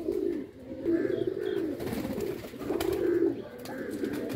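Pigeons coo in repeated soft, throaty phrases close by, several birds overlapping across the stretch, with light rustling and faint background noise between calls.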